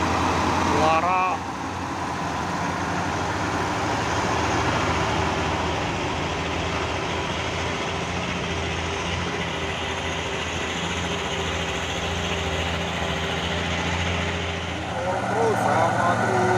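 A Hino dump truck and an Indomaret box truck idle and rumble with a steady low engine drone that holds for many seconds, while people talk nearby.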